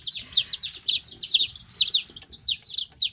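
Dual-purpose chickens give rapid, high, overlapping peeps and chirps up close, a busy continuous chatter with a faint low rustle beneath.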